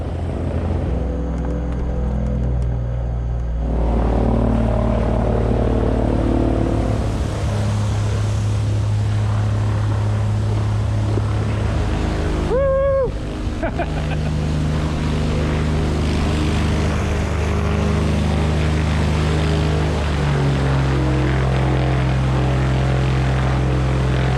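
A Cessna 182 propeller plane's engine drones steadily in flight at about 1,500 feet, a low continuous hum with a brief tonal whine partway through.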